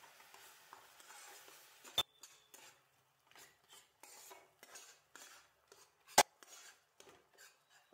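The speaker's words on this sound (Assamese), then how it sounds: "তাৰপিছত শাকখিনি মই লৰাই ভাজি থাকিলোঁ।" A spoon scrapes and stirs chopped spinach in a pan, with soft intermittent clinks and rubbing strokes, two sharp metallic knocks, and a faint sizzle underneath, recorded close in a quiet kitchen.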